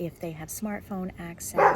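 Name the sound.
dog barking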